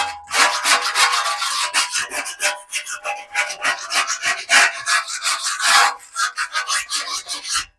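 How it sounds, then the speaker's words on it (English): A scraper rasps back and forth over stuck-on residue inside a Traeger pellet grill in rapid, loud, rhythmic strokes, close up and steady for several seconds with no voices. "I like to take that scraper again, and I just kind of go through and scrape off any extra parts that are on there"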